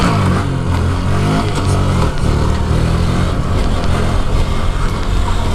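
A motorcycle engine roars and revs continuously and loudly during wheelies, with a steady dense rumble and occasional throttle surges throughout.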